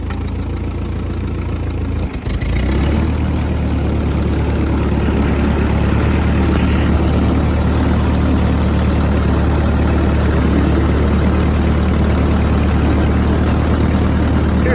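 A Ford 8N tractor engine idles loudly and steadily up close, with a low rumbling throb; a brief clunk near the start, then constant running.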